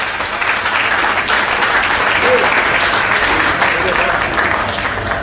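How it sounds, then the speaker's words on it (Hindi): An audience at a Hindi poetry event breaks into loud, sustained applause for an honoured poet, dense steady clapping filling the hall throughout. "तो जोरदार तालियां हो जाए अरुण जैमिनी जी के लिए।"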